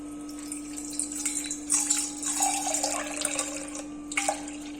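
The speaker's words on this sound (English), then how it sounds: "Now we can pour the water into a separate container." Water is poured from one vessel into a separate container while making Muscoth halwa, giving close, splashy bursts of trickling and gurgling that swell and fade, with faint clinks between pours.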